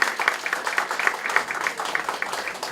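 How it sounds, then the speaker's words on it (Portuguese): Audience applause in a university lecture hall, a steady patter of many hands clapping at moderate volume for about three seconds, with no voices over it. "Eu transmito à Nilma o vosso aplauso"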